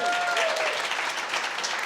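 An audience applauds in honour of the speaker's mother during a guest speaker's talk in Puerto Rico, a dense steady wash of clapping, with a voice briefly audible at the start.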